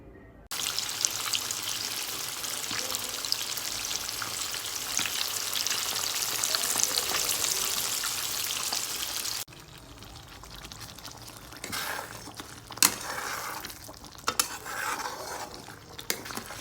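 Marinated fish coated in mustard paste fries in oil with a loud, steady sizzle for several seconds, then the sound drops to quieter kitchen clatter with sharp utensil clinks.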